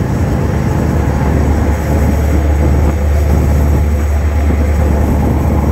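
Loud, steady engine drone aboard a passenger launch on a river, a dense low rumble filling the space without a break and no talk over it.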